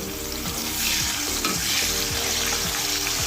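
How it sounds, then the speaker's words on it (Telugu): Mustard seeds fry in hot oil in a kadai, crackling and sizzling densely and close up with a bright hiss, while occasional stirring scrapes cut through; no one speaks. "ముందుగా మనము కడాయిలో ఆయిల్ వేసుకొని ఆయిల్ హీట్ అయిన తర్వాత ఆవాలు వేసుకోవాలి"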